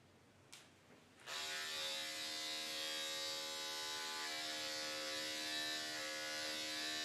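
Electric clippers start with a click and then buzz steadily and close as they trim the head of a senior rescue dog, holding an even hum with no talking.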